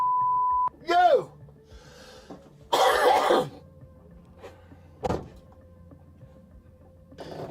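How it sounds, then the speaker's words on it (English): A single sharp cough bursts out, followed by a louder harsh cough-like burst and another short one, with an electronic beep at the start and faint background noise. "Bit of a cough he's got there."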